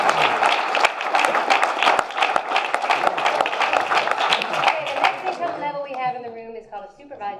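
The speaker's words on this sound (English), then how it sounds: "We can clap for myself if you want." Audience applause from a business presentation crowd, dense steady clapping that fills the room, then fades as a voice begins speaking over the last couple of seconds.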